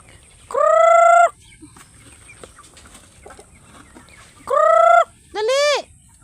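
Pet chickens, including Brahma hens, call out at feeding time with two long, loud squawking cries and a shorter rising-and-falling note, ringing out clearly over a quiet, slightly rustling yard.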